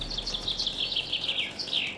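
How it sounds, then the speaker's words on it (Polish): Game birds chirp and sing in Farming Simulator 22, a steady run of quick, high, faint tweets over a soft outdoor background hum. "Zaczynają się wspaniałe dźwięki. Czyli dźwięki naszych pięknych ptaków"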